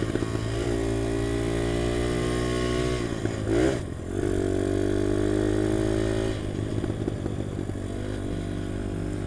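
A UM DTF 150 dirt bike engine drones steadily while riding, a loud, close, continuous hum with a brief rev change and clatter midway, no talking.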